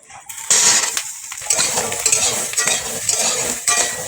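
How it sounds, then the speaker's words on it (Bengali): Cut potatoes drop into a frying pan with cumin seeds and slit green chillies, then a utensil scrapes and stirs them against the pan in steady, close, fairly loud strokes with light sizzling beneath, no talking. "এবারও দিয়ে দেবো কেটে রাখা আলু।"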